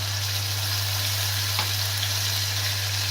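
A ground paste of black mustard, green chili and cumin fries in oil with onion for an ilish and taro dish, making a loud, even sizzle with a steady low hum running beneath it throughout.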